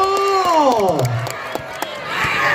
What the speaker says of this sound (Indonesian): mana tepuk tangannya buat Fakhri